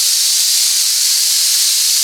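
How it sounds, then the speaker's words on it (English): Air compressor hissing steadily and loudly in a shop where a 1970 Ford Torino convertible is being stripped, a constant bright rush of escaping air with no breaks. "Man, that compressor does it every time, don't it?"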